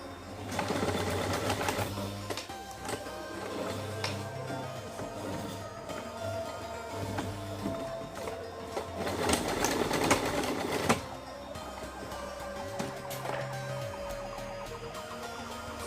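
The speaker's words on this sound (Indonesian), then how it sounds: "Jahit tepi setengah cm." A sewing machine stitches along a waistband edge about half a centimetre in, running in a steady mechanical whir with brief pauses and restarts, heard up close and alone.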